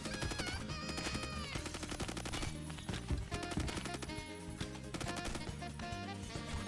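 AUG rifle firing in the shooter game Phantom Forces, a rapid sustained automatic burst of loud, dense shots laid over busy game music, with no pauses across the stretch.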